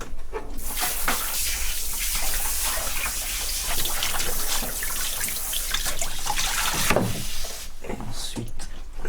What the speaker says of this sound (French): On rince à l'eau.